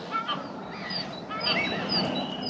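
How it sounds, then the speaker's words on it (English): Several birds honk and call loudly outdoors, goose- or duck-like cries overlapping in a continuous chorus through the whole stretch, with no talking. "these birds sound like they're fucking"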